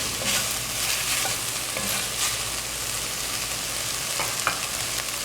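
Okra frying in a pot for West Indian callaloo and being stirred, a steady close sizzle with scraping stir sounds and a few sharper clinks, no talking.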